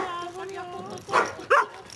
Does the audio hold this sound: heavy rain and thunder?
no